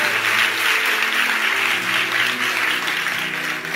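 A church congregation applauds in a steady, dense round of clapping that holds at an even level throughout, close and lively.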